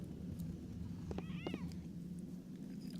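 A cat meows indoors, two short faint mews about half a second apart over a steady low room hum.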